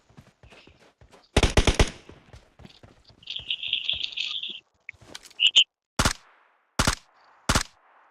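Gunfire in the mobile battle royale game PUBG Mobile comes as a burst of rapid shots, then scattered single cracks and short volleys, alongside fainter clicks and chirping game effects.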